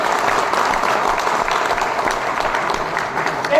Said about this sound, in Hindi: ताली बजाइए एक बार।